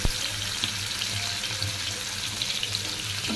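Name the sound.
sliced onions frying in oil for fried onion garnish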